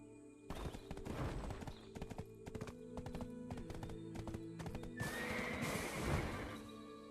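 A horse in Black Desert Online, on the snowfield around Ulukita, clops its hooves in a quick, close rhythm, then gives a loud, drawn-out neigh near the end.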